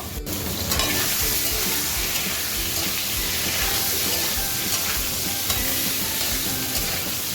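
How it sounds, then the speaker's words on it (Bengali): Spices with turmeric powder frying in a hot pan, a loud, dense sizzle with constant stirring scrapes, close up and unbroken from start to finish. "2 মিনিট একটু নাড়াচাড়া করে ভেজে নেব।"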